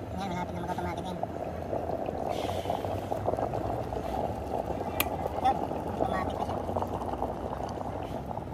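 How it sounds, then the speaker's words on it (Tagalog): Water heating to a boil in a Hanabishi electric kettle converted to a thermostat: a steady rumbling bubble and hiss that continues throughout, with a person talking over it. "Ayan, medyo kumukulo-kulo na siya."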